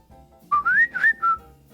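A person whistles a short rising-and-falling tune of about four close, clear notes in a casual setting, with no talking over it.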